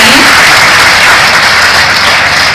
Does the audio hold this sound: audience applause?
yes